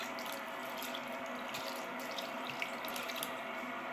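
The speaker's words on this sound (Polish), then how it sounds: "Trzeba spłukać cały szampon." Water runs from a tap, rinsing shampoo out of a hobby horse's hair in a steady close splashing flow with small drips and no talking.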